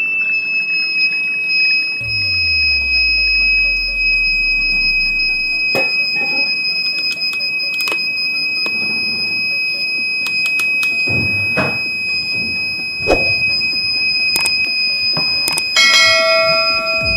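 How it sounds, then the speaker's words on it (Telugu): A homemade water tank alarm buzzer, set off as water is poured in, holds a loud, steady high-pitched electronic tone throughout, with clattering handling noises and a low descending hum early on, and no speech. "మనం అందులో వాటర్ పోస్తే బజర్ అనేది ఆన్ అవుతుంది"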